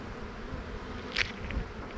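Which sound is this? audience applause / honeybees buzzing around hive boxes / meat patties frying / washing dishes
honeybees buzzing around hive boxes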